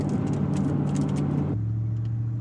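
A beater car drives on a gravel road, a steady mid-engine rumble with tire noise that drops to a smoother, quieter drone as the car crosses onto asphalt.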